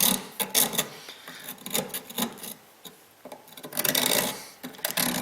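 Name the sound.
scraping a filler neck with emery cloth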